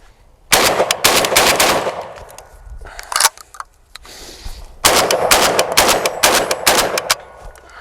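A JTS M12AK shotgun fires and cycles Winchester rounds in two loud rapid strings of blasts, close and sharp, with a brief burst of shots and a short lull between them.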